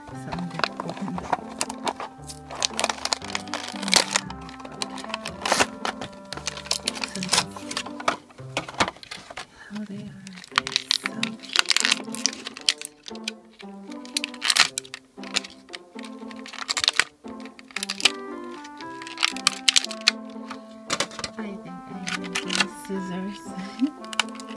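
Littlest Pet Shop toy packaging is opened by hand, with crisp plastic crackles, clicks and tapping scattered irregularly throughout while a person talks.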